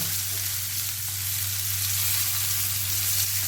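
Sardines (mathi) fry in a pan with a steady, close sizzle and crackle of hot oil. The sound holds at an even level throughout, with no voices over it.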